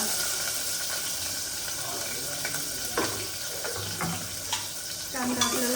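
Onion sautéing in hot oil with mustard seeds, cumin and green chili, a soft steady sizzle with occasional spoon scrapes and stirring clinks, quiet speech murmuring over it.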